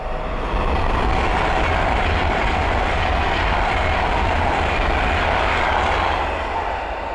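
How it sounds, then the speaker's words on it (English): A West Coast Class 390 Pendolino passenger train rushes past close by at Linslade on the West Coast Main Line, a loud sustained roar of wheels and rails that holds steady for several seconds before easing slightly. "the next train to pass by is the West Coast Class 390 Pentalino from London Euston to Blackpool North."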